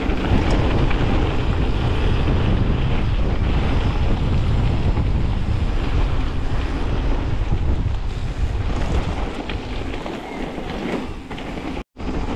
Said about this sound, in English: That bloody wind, man.